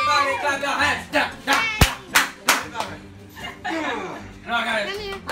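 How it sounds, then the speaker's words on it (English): Hands clapping in a few sharp, loud slaps near the middle, set among chuckles and talking voices during a family cruise reveal. "Clap your hands."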